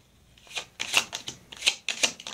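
Gypsy card deck shuffled by hand in a few brisk riffling bursts, close and crisp, with short pauses between shuffles and no talking.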